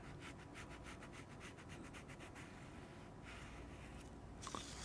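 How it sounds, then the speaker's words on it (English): Leather is sanded with a sanding stick along the edge of a wallet piece before contact cement goes on, giving a steady rhythmic scratchy rubbing of fast back-and-forth strokes, close and moderately quiet, with no talk. "I will sand the area where we will cement it."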